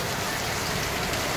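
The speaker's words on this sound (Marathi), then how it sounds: "मस्त पाऊस पडतोय, छान।" Heavy monsoon rain pours down in Mumbai, a dense, loud and unbroken roar of falling water close by with no voices over it.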